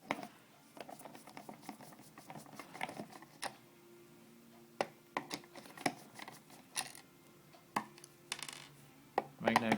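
Small screws being backed out of the rear case of a multimeter with a magnetic screwdriver, a string of faint, sharp metallic ticks and clicks close up in a quiet room.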